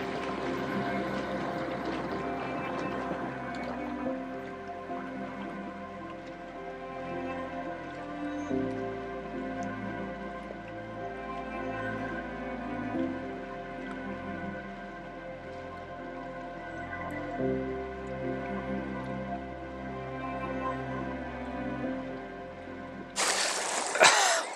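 Floodwater flowing at Flatford, a steady rushing wash with a low pump-like drone under it, continuous and moderately loud for the whole span, with a brief louder splash near the end.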